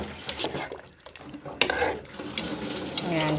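A pot of pork sinigang soup with plenty of broth is stirred, its liquid swishing and sloshing continuously with faint clinks of the utensil against the pot, close and fairly loud.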